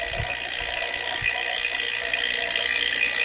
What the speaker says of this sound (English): we open up the suction valve first